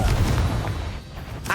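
Spell blasts from Hogwarts Legacy, a video game: dense booming, explosive bursts fill the clip loudly, with a sharp crackling hit near the end.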